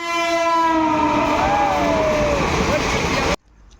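Train horn blaring loudly at a busy railway station in India, one long sustained blast over steady rumbling rail noise with voices mixed in, cutting off abruptly near the end.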